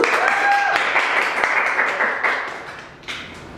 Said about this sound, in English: Round of applause for Dorco.